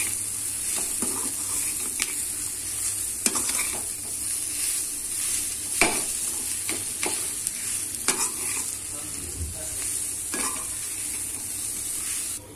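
A spoon stirs mashed potato and sweet corn around a hot pan, scraping and knocking at an uneven rhythm over a steady faint sizzle, close and moderately loud with no talking.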